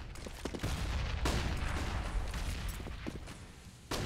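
Grenades burst in a Counter-Strike match on the Inferno map, several sharp cracks and thuds scattered over a dense wash of gunfire and crowded in-game noise.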